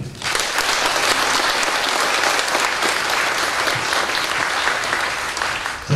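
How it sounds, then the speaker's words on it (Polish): Dense, steady applause from an audience at a cultural event at the POLIN Museum, loud and continuous throughout before ending abruptly. "brawa dla niej"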